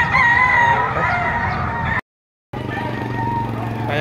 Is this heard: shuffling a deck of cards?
no